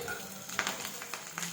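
Curry leaves sizzle and crackle in hot oil in a pan, with soft scraping stirs and a few sharp pops, close and fairly quiet.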